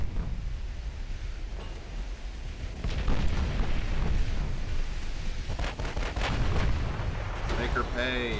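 Heavy battleship gun salvos boom repeatedly in the naval game Ultimate Admiral Dreadnoughts, loud rumbling blasts building from about three seconds on, with a voice briefly speaking near the end.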